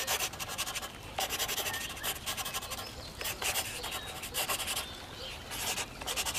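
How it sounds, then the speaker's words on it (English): A bold black marker outlines a drawing of a swing in a park scene on paper, giving close, repeated scratchy strokes in short bursts with brief pauses between them. "Let's make it even better by outlining everything with a bold black marker."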